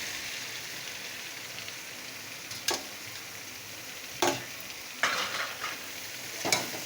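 Chopped bottle gourd goes into spiced oil in a pan for a prawn dish. A steady sizzle plays alone, with several louder bursts of hissing and scraping as the gourd is added and stirred.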